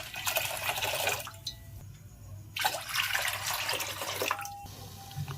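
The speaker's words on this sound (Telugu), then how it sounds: "వాటర్ మనకి బాయిల్ అవడం స్టార్ట్ అయింది" Water heating in a pan on a stove as it starts to boil, giving a steady bubbling, watery rush with brief pauses and a few faint clinks, close and fairly loud with no talking.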